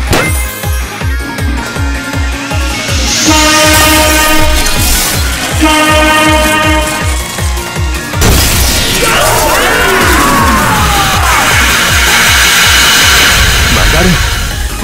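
Hankyu 2300 series train racing downhill on the Tokyu Toyoko Line in the Densha de D arcade-style game: a loud, steady rhythmic clatter of wheels under a blaring electronic soundtrack, with screeching and crashing effects later.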